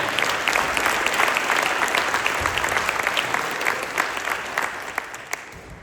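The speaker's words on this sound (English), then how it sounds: "Let's give everybody a round of applause." A large audience at the Rotary 2026 Multi-District Conference claps steadily, a dense, even patter of many hands with individual claps popping out, heard at moderate distance with no talking.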